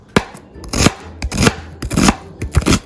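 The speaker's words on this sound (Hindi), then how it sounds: "उसमें प्याज और हरी मिर्चें, तो मैं छोटे छोटे करके डाल रही हूँ" A knife chops onions and green chillies into small pieces on a board, a close series of about eight sharp, uneven thuds.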